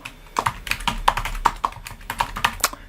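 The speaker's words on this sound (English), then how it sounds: "And I'm going to start typing in Stephen Arthur." Steady typing on a computer keyboard, a close run of crisp, irregular key clicks about three or four per second with occasional heavier strokes, heard alone without talk.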